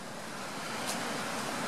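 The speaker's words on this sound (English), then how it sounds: "I know it's really windy out here" Strong wind gusts across an open outdoor spot beside a truck, a steady, loud broadband roar with no pauses, buffeting the microphone throughout.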